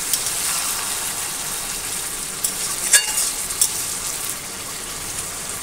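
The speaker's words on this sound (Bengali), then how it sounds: "এবারে আমি বেটে রাখা রসুন আর আদার যে পেস্ট ছিল আর কাঁচা লঙ্কা সেটা দিয়ে দিলাম, আবার আমি কষাতে থাকবো" Meat with ginger-garlic paste and green chillies sizzles steadily in a pan, a dense hiss close by, with a couple of brief spatula scrapes midway.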